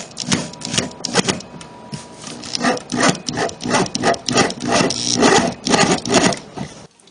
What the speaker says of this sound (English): The pipe supports are attached using 3/4 inch long screws.